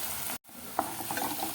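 Minced mutton keema frying in a pan, a close steady sizzle broken by a brief silent gap and followed by a few light scraping stirs, with no talking.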